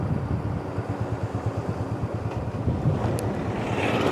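Wind buffeting a microphone while riding a motorbike on the Haldwani–Ramnagar road near Corbett National Park, a continuous rough gusty roar with a low pulsing engine beneath, loud and close, no speech.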